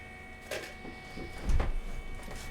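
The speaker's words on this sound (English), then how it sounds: "Now we can go fire up the machine and we can feed some filament in." A Flashforge Adventurer 3 3D printer powers up with a couple of soft mechanical clicks and whirring bursts over a low steady hum, heard close up with no talking.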